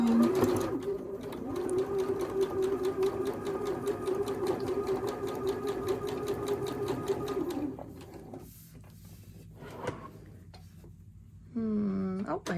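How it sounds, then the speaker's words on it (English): A sewing machine stitches quilt fabric in a fast, even mechanical chatter for several seconds, then stops; a short burst follows after a pause, with a voice talking quietly near the end. "I'm going to sew just a thread width away"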